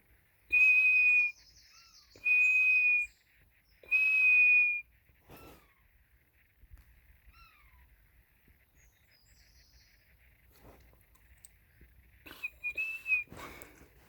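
Three long, steady high-pitched whistle blasts from a bird-call whistle, evenly spaced, followed by quieter outdoor ambience and a few faint chirps near the end.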